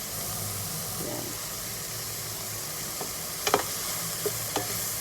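Chopsuey ingredients stir-fried in a hot pan give a steady close sizzle and hiss, with a few sharp clinks and scrapes of a utensil against the pan toward the end.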